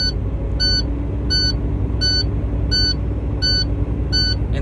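Truck engine held at steady revs in neutral to build air brake pressure toward 100 PSI, a loud continuous low rumble throughout, with a repeating electronic warning beep chiming at regular intervals about every 0.7 seconds.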